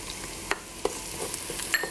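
About three cloves of minced garlic fry in a pot for an African peanut stew, giving a steady sizzle dotted with several quick stirring taps and scrapes; no voices.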